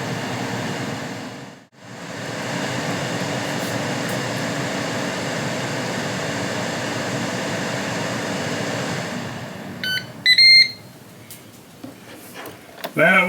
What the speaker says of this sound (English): That was the ending beep.